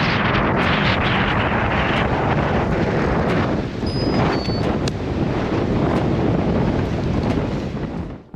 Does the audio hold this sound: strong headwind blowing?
yes